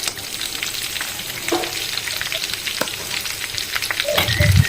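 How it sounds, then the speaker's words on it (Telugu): Ivy gourds (little gourds) frying in hot oil in a pan, a loud continuous close sizzle with crackling pops and occasional stirring scrapes, no voices. "ఇప్పుడు దొండకాయలను వేసేసుకుంటున్నాను"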